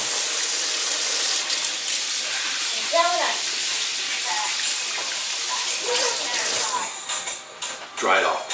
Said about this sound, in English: Let's wash off the offset spatula,